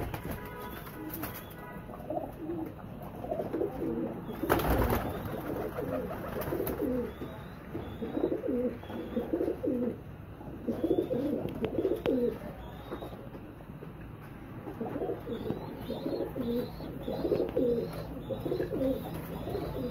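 Young flying pigeons kept for sale coo in repeated soft, throaty phrases throughout, with a sharp clatter near the start and faint chirps in the background.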